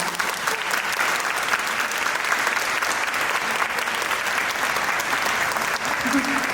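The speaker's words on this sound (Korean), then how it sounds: "시흥시립예술단지회에 다시 한 번 더 큰 박수 부탁드립니다." Sustained audience applause for the Siheung City Arts Troupe at a Naver Reboot 2.0 cultural festival, a steady dense wash of clapping from a large crowd, loud and continuous throughout without pause.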